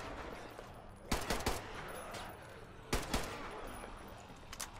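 Gunfire from a dirty rifle in the video game Metro Exodus cracks out in two short, rapid bursts of several shots each, with a quieter shot near the end over a low ambient background.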